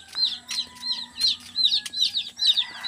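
Chickens cluck in repeated short calls at a steady pace, close and fairly loud, with faint peeping from chicks underneath.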